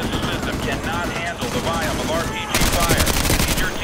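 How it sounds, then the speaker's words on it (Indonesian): Rapid bursts of automatic gunfire crackle loudly and continuously in a Call of Duty Modern Warfare 2 Remastered battle, dense and close, with a heavier barrage near the end and a voice speaking over it. "Wih, ada yang nembak."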